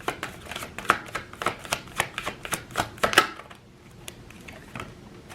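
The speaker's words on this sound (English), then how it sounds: "Let's pull the last three cards here." Tarot cards riffle and slap in a quick rhythmic burst of sharp flicks, then slow to a few separate card draws and soft slides near the end, close and fairly quiet.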